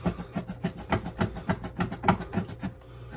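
A Goo Gun adhesive remover rubbed over a sticky white film of residue, giving a rapid run of scratchy rubbing strokes in a steady rhythm, close and moderately loud, with no voice.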